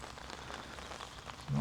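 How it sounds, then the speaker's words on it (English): Steady patter of rain falling on a fishing umbrella at a match fishing session, a dense even hiss of drops drumming on the canopy, fairly quiet and continuous with no talk. "The rain's getting heavier."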